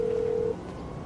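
Phone dialing tone in the video game GTA V: a single steady electronic beep for about half a second, then a faint hum.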